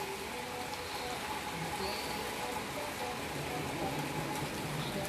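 Continuous rain on a rainy day, a broad, even hiss of falling drops that fills the whole stretch.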